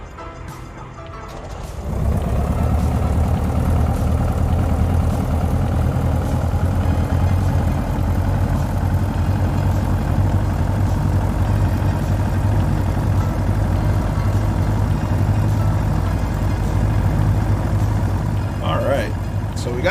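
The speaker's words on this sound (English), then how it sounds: "Got the engine started." A propeller aircraft engine starts in Microsoft Flight Simulator, catching after a couple of seconds and settling into a loud, steady drone that holds to the end, with brief talk over it.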